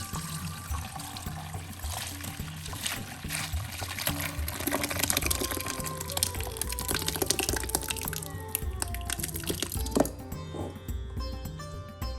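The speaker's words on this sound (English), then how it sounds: "going to put it in my sink here and going to pour the milk, the curdled milk into that" Curdled milk streams continuously into a kitchen sink, a steady watery trickle and splash lasting several seconds over a background of soft music.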